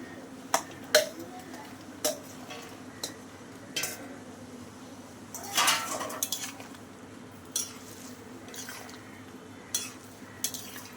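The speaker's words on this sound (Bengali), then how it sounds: "এবার আমি বড়াগুলো সব দিয়ে দেবো" Flour fritters dropped into a simmering potato curry in a pot, giving a series of soft splashes and clinks of a spoon against the metal pot, close and clear with no talk.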